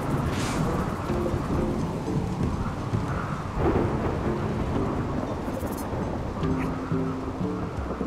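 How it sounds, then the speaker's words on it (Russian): Steady heavy rain with low rumbling thunder rolling underneath in the video game RimWorld, a constant dense wash of noise throughout, with faint tonal sounds drifting in. "Почему у них мокро? Это потому что дождь идет."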